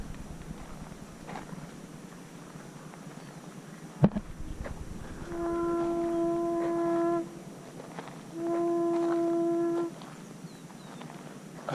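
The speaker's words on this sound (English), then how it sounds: "I hear the conch shell sound." A conch shell is blown twice, each a long, steady, horn-like tone lasting about two seconds, heard at moderate distance over outdoor ambience with footsteps on Cerro de la Estrella in Mexico City.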